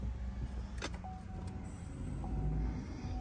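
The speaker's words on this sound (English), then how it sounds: "I'm going to start the car." A Chevy Volt electric car powers on inside a quiet cabin, giving a couple of soft electronic tones and a click rather than any engine roar.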